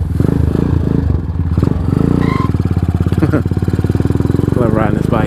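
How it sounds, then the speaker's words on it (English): A Venom X22R 250 motorcycle being ridden, its engine droning loudly and steadily with a buzzy harmonic tone and small pitch changes, joined by some scraping clatter near the end. "Love riding this bike."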